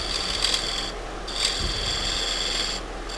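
Steady rasping scrape of a gouge point cutting a winged burl wood bowl spinning on a lathe, continuous and close, with brief pauses where the tool lifts off before resuming.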